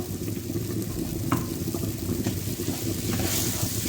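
Washed, drained bulgur being stirred in a pan, a close, continuous scraping and rustling of grains against the pan with a faint sizzling wash beneath and a few sharper scrapes.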